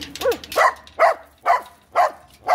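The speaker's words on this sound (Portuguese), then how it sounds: "A cachorrada veio receber o repórter animal aqui na porta" Several dogs bark at a doorway in a rough, steady rhythm, about five loud, close barks spaced roughly half a second apart, with a brief whine-like yelp before them.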